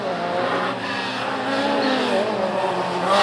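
Slalom race car number 7 at the start line of the Slalom Curinghese, its engine revving loudly and steadily with a rising, harsh tone, close by, briefly under an announcer's voice.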